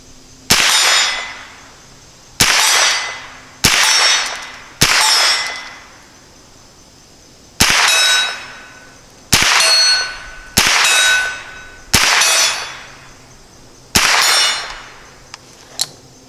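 Rounds from a Smith & Wesson M&P15-22 rifle strike steel targets at 50 yards, giving about ten sharp metallic clangs. Each clang rings and decays, and they come at irregular intervals of one to two seconds.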